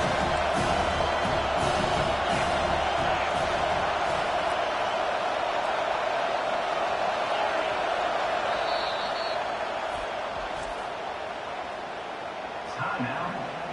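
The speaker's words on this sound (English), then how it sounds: "Decibels rising as the crowd gets behind this defense on third down." Stadium crowd roaring on third down at a Penn State college football game, a dense, sustained wall of broadband crowd noise that swells steadily and eases slightly near the end, with no voice on top.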